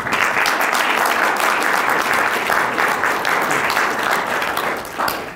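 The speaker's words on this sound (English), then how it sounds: "please give me a round of applause for Dr. John Ikerd" The audience at a small farm conference gives sustained, loud applause for Dr. John Ikerd, a dense roar of many hands lasting over five seconds before easing off near the end.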